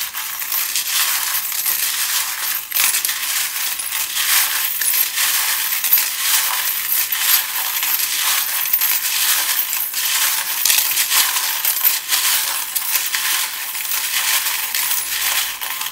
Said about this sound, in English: So let's start shuffling.